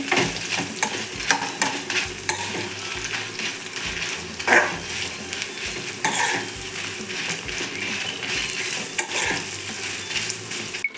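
Dried red chillies fry and sizzle steadily in a pan for a village-style egg sambar, with close stirring scrapes and occasional clinks of a spoon against the pan throughout, no voices.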